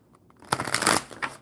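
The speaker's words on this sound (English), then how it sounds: "One more good shuffle." A short, close riffle of tarot cards being shuffled once, a soft papery flutter lasting under a second, with no voices.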